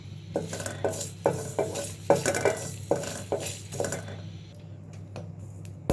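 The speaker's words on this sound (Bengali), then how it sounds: "তিনটা শুকনো মরিচ দিয়ে দিয়েছি অল্প কিছু পাঁচফোড়ন দিয়ে দিলাম" Dry red chillies and panch phoron fry in a pan, with repeated clinks and scrapes of a spoon stirring against the metal over a faint sizzle.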